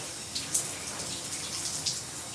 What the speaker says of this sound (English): So I'm just going to use my shower because my head is big and it cannot fit in the sink